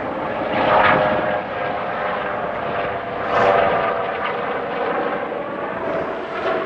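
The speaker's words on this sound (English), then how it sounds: "Helicopters tracking Petra." Helicopter rotor and engine drone overhead, a steady roar that swells and fades in waves as it passes, with no talking.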